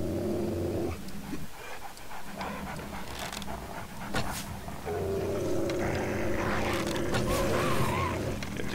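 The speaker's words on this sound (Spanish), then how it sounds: "Matando a los perros, tío." Dogs growl and pant in the zombie survival game 7 Days to Die, rough snarling bursts and breathing mixed with game noise, close and fairly loud, with players briefly talking.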